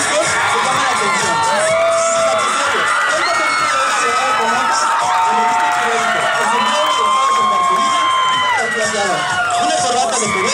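A large crowd cheers, shouts and whoops for a contestant at a costume contest, with excited children's voices and scattered applause, loud and continuous, with people talking within the noise.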